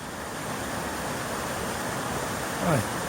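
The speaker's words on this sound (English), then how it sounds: "Mini waterfall, rapids I suppose." Steady rushing water from a small waterfall and rapids over rocks in Wales, a continuous broad hiss at moderate level with a brief higher sound near the end.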